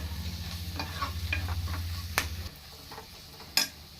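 A pan of crab curry with curry leaves being stirred, a soft sizzle under scraping strokes, with a low hum that cuts out midway and a couple of sharp metallic clicks.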